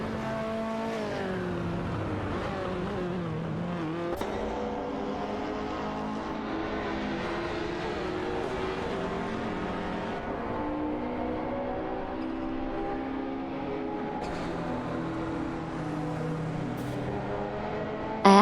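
Engine drone of racing cars in a video game, a Porsche 959 and a Buick GNX running neck and neck, with steady revving tones rising and falling, continuous and loud throughout with no talk.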